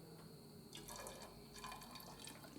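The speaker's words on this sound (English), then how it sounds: "take this piece of hose that I got on top of the radiator, and I'm going to put water in it" Water poured into a piece of hose on top of a radiator on a Nissan Frontier 3.3L V6 and splashing out the other side, a faint trickling gush with small drips, quiet and close.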